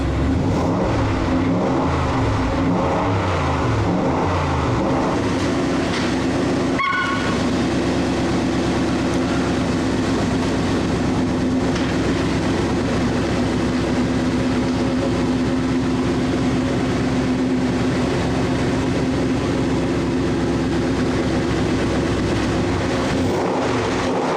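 A 5.0 Coyote V8 swapped into a Ford Bronco idles loud and close, a steady rumbling burble that holds for a long stretch with a brief blip partway through.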